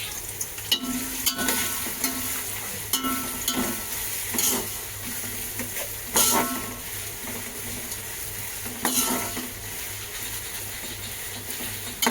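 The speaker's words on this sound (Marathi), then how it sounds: "आपण जे कांदा टाकला होता तो भाजून घेतलेला आहे" Onion frying in oil with whole spices such as cinnamon, bay leaves, black pepper, cloves and cardamom for a prawn biryani, a steady close sizzle broken by repeated scraping stirs across the pan.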